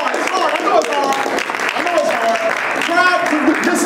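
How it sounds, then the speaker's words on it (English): Steady clapping from a congregation during a sermon-style talk, sustained and even throughout, mixed with crowd voices and tonal chatter running underneath. "Go ahead and put your hands together."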